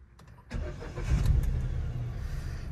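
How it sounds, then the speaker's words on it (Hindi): A Hyundai Eon 1.0 car engine cranks and catches at about half a second, then settles into a steady, close idle with a slight rev swell, with no talking. "अब चलिए गाड़ी को स्टार्ट करते हैं"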